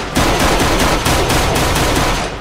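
Sustained rapid-fire shooting in Minecraft, a loud dense stream of gunshots in quick regular rhythm lasting without a break, heard alone with no voices.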